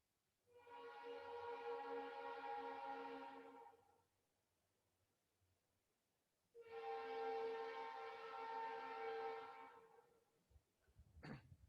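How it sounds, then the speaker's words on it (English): A passing train sounds two long, loud horn blasts several seconds apart, each with a rich layered tone. Quiet rumble fills the gap, and a sharp short noise closes the sequence. "Just wait, let the train pass by."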